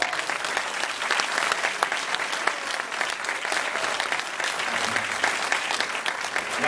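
Dense, steady applause fills a venue at an album presentation in Cineteca Tijuana, a crowd clapping loudly and continuously for a musician.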